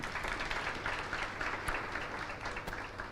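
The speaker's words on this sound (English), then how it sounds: "So a big round of applause to him." Audience applause at a summit event, a steady dense wash of clapping from a crowd, moderately quiet and continuous throughout with no speech over it.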